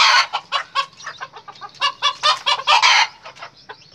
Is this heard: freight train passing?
no